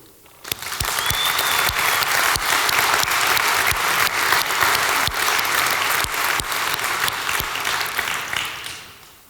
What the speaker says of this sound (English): also a big round of applause for you